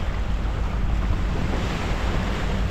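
Steady crash and wash of Sea of Azov waves against the Mariupol embankment, continuous broadband surf with wind buffeting the microphone, loud and close, no voices.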